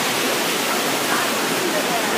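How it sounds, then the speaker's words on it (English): Rushing river beside an old grist mill and cabin, a loud, dense, continuous roar of churning water close by, steady without a break. "Let's take a look at that rushing river."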